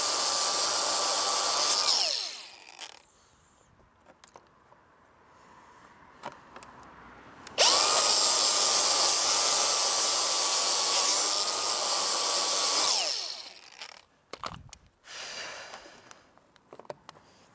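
A power sander whines loudly up close on the edges of custom car bumper pieces, running in two long bursts separated by a quieter pause, then stopping into a few short knocks and handling noises.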